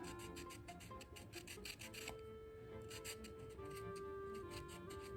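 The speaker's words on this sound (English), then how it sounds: "it gives you a fresh edge to sand with" Sandpaper is rubbed over a small wood carving of a tufted titmouse in a steady, rapid back-and-forth rasp. The strokes are close and continuous, with no pauses, and a faint low hum sits underneath.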